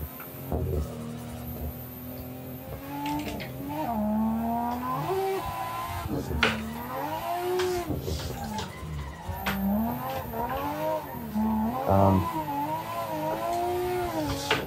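Car engine revving and sliding through drifts in the Assetto Corsa racing game, with rising and falling engine pitch, repeated throttle blips and tire squeal, continuous and fairly loud with no talk.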